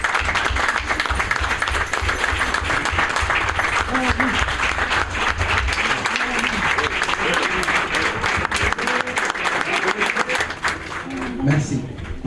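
An audience stands and applauds a speaker before his closing speech at a Senegalese footballers' union event, loud continuous clapping throughout, with a few voices faintly audible beneath it near the end.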